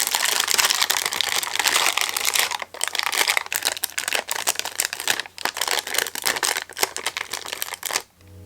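Ironing paper is peeled off fused perler beads in a continuous dense crinkling and tearing rustle, up close and loud, with short pauses between pulls before it stops.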